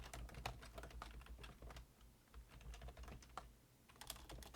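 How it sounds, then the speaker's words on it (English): Rapid, irregular keystrokes on a computer keyboard, close and fairly quiet, with steady clicking throughout and no voices. "Again, with the typing"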